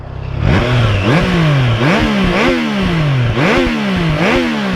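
A Triumph Trident 660 motorcycle engine with stock exhaust revs up and down repeatedly in quick, rhythmic surges, loud and close, its pitch rising and falling about five times.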